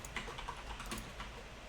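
Typing on a computer keyboard: soft, quick, irregular key clicks, close but faint, over a low background hum with nobody speaking.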